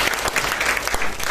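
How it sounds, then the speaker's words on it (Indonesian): A short, close burst of loud clapping from a seminar audience, dense and continuous without voices. "Tepuk tangan sekali lagi buat Feli."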